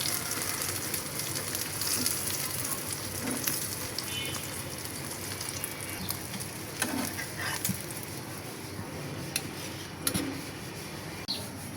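Eggs fry in a pan with a steady, close sizzle and crackle that runs unbroken throughout, with no voices.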